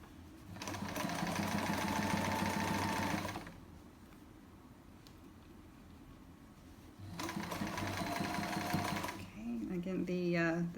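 Sewing machine stitching fabric chair pouches, two bursts of fast, steady mechanical whirring a few seconds each, separated by a quiet pause, with a voice talking near the end.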